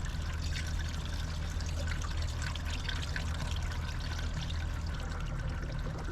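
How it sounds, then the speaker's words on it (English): OAT coolant is poured into the cooling system of a RAM Promaster van, making a continuous, even gurgling stream of liquid at close range from start to finish. "the last thing is to add the actual coolant, which happens to be a very interesting color"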